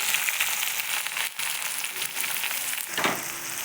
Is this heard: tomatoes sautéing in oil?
yes